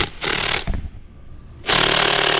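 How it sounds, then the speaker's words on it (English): Makita impact gun hammering on transmission pump bolts, a loud close burst, a pause of about a second, then another burst starting. "See if this little Makita gun will get any of these."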